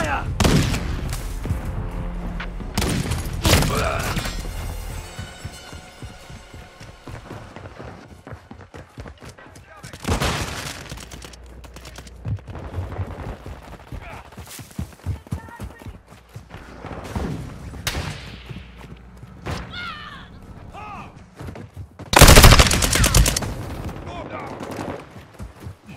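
Gunfire in Call of Duty Modern Warfare II, heard as repeated bursts of automatic fire with booming impacts and a loud blast near the end, mixed with game voices and battle noise.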